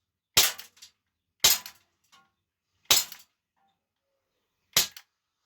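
A Hellboy M4 carbine CO2 airgun firing 4.5mm BBs, four sharp, loud cracks spaced apart, each followed by a faint metallic ring, with no voices.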